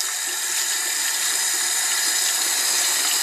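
Tap water runs in a steady hiss while a makeup brush is rinsed at the sink, unbroken and fairly close throughout.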